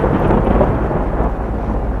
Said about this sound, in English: the clouds growing angry, thunder crashing, followed by a blast of lightning down towards Magneto